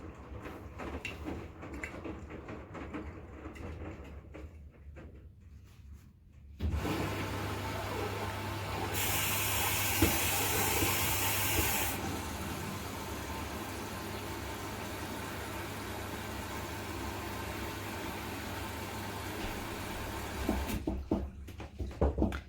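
A Cylinda FT5384 washing machine in its final rinse cycle on a 60°C cottons program: quiet mechanical sounds give way to a steady loud whirring drum hum with a bright hiss for a few seconds, then a sudden stop.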